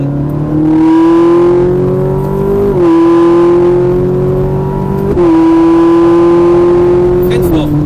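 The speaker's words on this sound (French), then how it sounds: "Voilà, gaz à fond." Ferrari 458 Italia accelerating at full throttle on a circuit, a loud rising engine howl that climbs steadily through three gear changes with brief dips at each shift, heard from inside the car.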